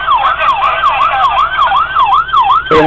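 A custom 1/18 scale diecast Forty Fort police car sounds its toy siren, a loud, close, rapid wailing sweep repeating evenly before cutting abruptly near the end.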